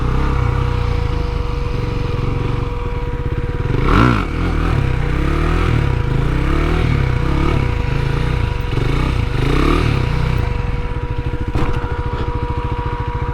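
A KTM Duke 390 motorcycle holds stand-up circle wheelies, its single-cylinder engine droning steadily up close. The engine note swells and dips as the rider throttles, with occasional scrapes and clatters.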